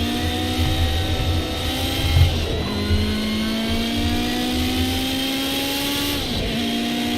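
A small car's engine revs steadily in a racing video game, a loud continuous drone with rising and falling pitch and gear-shift dips around two and six seconds.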